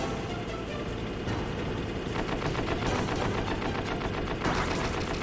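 Rapid, loud automatic gunfire from an enemy soldier in Metal Gear Solid rattles in continuous bursts, tightly packed shots over a dense layer of game noise.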